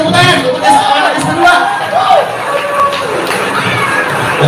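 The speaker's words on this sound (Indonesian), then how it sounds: "Luar biasa tepuk tangan." A school talk-show crowd of students cheers, shouts and whoops loudly, voices rising and falling over a dense, close roar that carries through to the end.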